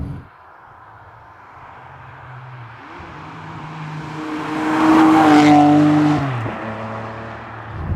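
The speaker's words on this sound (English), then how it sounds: "that gives you that real high-pitched Formula 1 sound" A high-pitched Ferrari 599 GTB Fiorano V12 revs up to a shrill, loud wail and then drops back, its exhaust heard close by.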